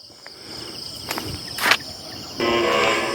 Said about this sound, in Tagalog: may mga naririnig po tayo ng mga kuliglig